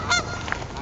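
Geese give a short, close honk outdoors near water, a brief nasal call with no talking over it.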